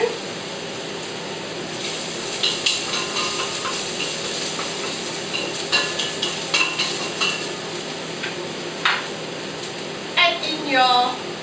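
Garlic fries in a hot pot for a vegetarian chi qua soup, a close, steady sizzle with scraping stirs and a burst of rapid clicking near the end.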